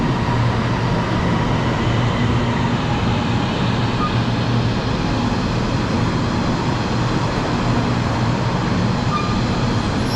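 An MRT metro train at Sentul Timur station in Kuala Lumpur fills the platform with a loud, steady rumble and hiss that holds unbroken from start to finish.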